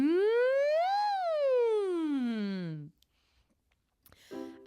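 Voice imitating a siren as a singing exercise, one smooth slide rising then falling in pitch for about three seconds, close and clear, followed by silence and a brief bit of talk.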